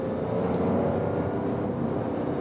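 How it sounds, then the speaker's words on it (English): Seat Ibiza with a three-cylinder engine heard from inside while driving, a steady low engine hum under road and cabin noise, even and continuous with no speech. "Nice engine sound here from a 3-cylinder again."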